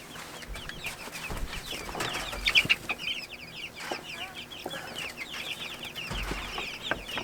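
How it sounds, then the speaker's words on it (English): Chickens cluck and chatter steadily amid a busy flock of small guinea fowl, with a few sharper squawks near the middle and scattered chirps throughout. "we do have 2 chickens in there that are teaching them how to eat"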